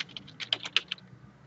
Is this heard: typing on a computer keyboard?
yes